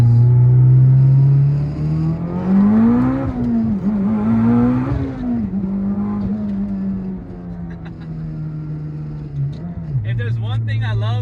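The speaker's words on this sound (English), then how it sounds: "I'm gonna do a quick first gear pull for you guys" A 600HP Mitsubishi Evolution 10 with a manual gearbox and boost pulls hard in first gear, engine droning and rising in pitch from inside the cabin, with a voice speaking over it.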